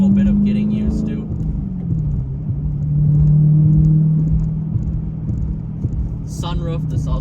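A Dodge Challenger SRT8 with a manual gearbox drives along, its engine holding a steady low rumble with a brief swell in revs, while a person talks over it the whole time.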